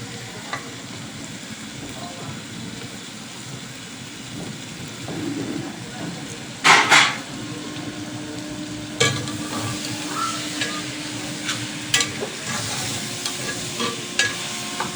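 Spatula stirring and sautéing a dal mixture in a pan before boiled potato goes in, a steady low sizzle under scattered scraping clatters and a few sharp knocks of utensil on metal.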